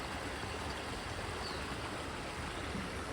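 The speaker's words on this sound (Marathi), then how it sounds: "हा जो झऱ्याचा मस्त एकदम खळखळ आवाज आहे" A stream in the Konkan countryside gurgles and babbles steadily over its bed, a soft, continuous wash of running water with no voices.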